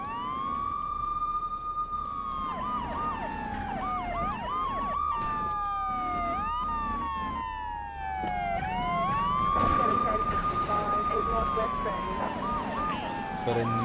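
A wailing police siren in GTA III sweeps up and down repeatedly, loud and close, with faint car engine noise beneath.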